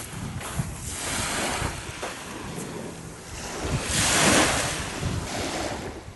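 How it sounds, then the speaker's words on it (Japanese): Waves wash over a pebble beach at Katsurahama on Kurahashi Island, a close, continuous roar of surf that swells and recedes in broad surges, with wind buffeting the microphone and no voices. "波音いいですね。"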